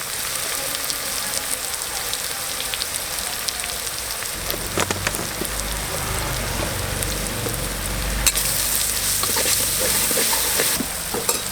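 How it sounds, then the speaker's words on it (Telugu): Ginger garlic paste fries in hot oil for a village-style spicy mutton curry, giving a dense, continuous sizzle with occasional stirring scrapes. "అల్లం వెల్లుల్లి పేస్ట్ వేసుకోవాలి మంచిగా పచ్చి వాసన పోయేంత వరకు నూనెలో గోలించుకోవాలి"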